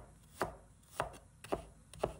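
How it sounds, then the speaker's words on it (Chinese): A knife chops shallots on a cutting board in four evenly spaced, crisp thuds about half a second apart, close and fairly quiet with no other sound. "接着我们准备一把红葱头，把它切碎。"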